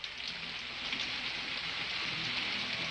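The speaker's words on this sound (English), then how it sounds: "it's raining." Steady rain falls on a surface, a dense, even hiss with no voices heard.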